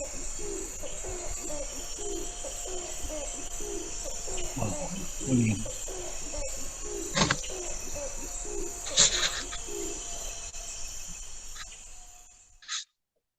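A recorded bird call played back outdoors after dark, with repeated low cooing notes over a constant chorus of crickets and insects, ending abruptly.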